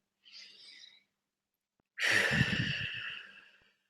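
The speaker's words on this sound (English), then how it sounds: "start taking some of those nice deep breaths and blowing out all that old stale air" A person takes deep breaths and blows them out, with a soft inhale followed after a pause by a longer, louder exhale that trails away, close and alone.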